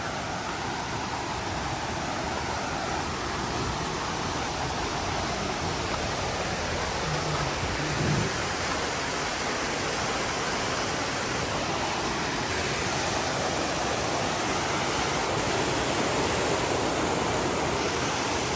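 Steady broadband roar of the Ayyanar Kovil waterfall near Rajapalayam, a constant close wash of falling water running unbroken throughout with no voices.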